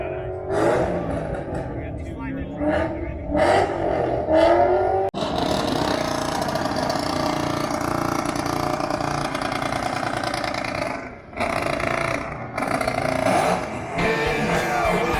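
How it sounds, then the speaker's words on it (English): At a car show's Ford Mustang rev contest, a Mustang engine barks through stuttering two-step bursts and then long, loud straight revs, with brief drops between pulls and a crowd talking underneath. "Nice little mix of two-step and straight revs."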